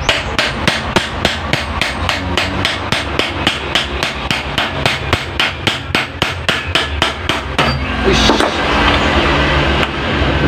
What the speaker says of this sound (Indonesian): ini kita keling sedikit.